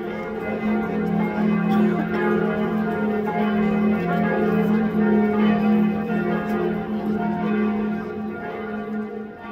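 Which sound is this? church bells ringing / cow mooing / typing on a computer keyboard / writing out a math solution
church bells ringing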